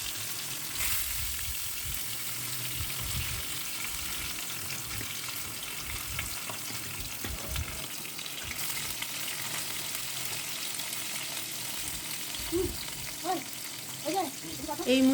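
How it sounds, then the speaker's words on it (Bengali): Bhetki fish pieces fry in hot oil in a wok, a steady sizzle with occasional stirring and spoon clinks near the end, close and continuous. "মাছগুলো আমি একটা করে সব ভেজে নিব।"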